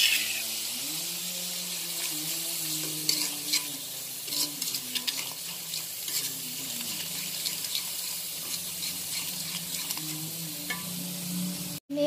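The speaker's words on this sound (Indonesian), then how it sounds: "Kemudian masukkan bumbu yang tadi udah aku haluskan. Aduk-aduk biar gak gosong." Ground spice paste is stirred as it fries in a pan for nasi uduk, a steady sizzle with scraping strokes of the spoon running throughout, close and fairly loud, with no voices.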